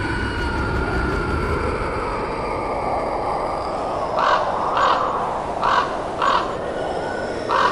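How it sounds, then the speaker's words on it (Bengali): Crows caw in a string of about five loud, harsh calls, spaced roughly half a second apart, over a steady background drone. "সেই বিস্ফোরণের শব্দে চারপাশের পাখিগুলি অত্যন্ত বাজেভাবে কিচিরমিচির শব্দ করে এক গাছ থেকে অন্য গাছে চলে যেতে লাগলো"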